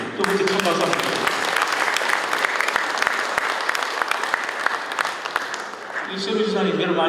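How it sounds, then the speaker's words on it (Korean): A crowd at a Gyeongsangbuk-do governor's APEC summit results briefing applauds for the governor and a lawmaker, a dense, loud burst of clapping sustained for several seconds that eases briefly before swelling again. "두 분께 큰 박수 한번 드립니다"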